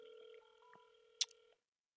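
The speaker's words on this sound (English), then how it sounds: "I don't know if you can hear the ringing." A cell phone call rings through Google Voice forwarding as a faint, steady electronic tone that stops abruptly, followed by a sharp click and quiet.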